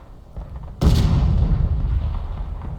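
Artillery fire in the War of Rights game: one heavy, close cannon blast that rolls into a long rumbling tail, with no talk.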